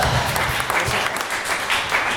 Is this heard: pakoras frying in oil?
no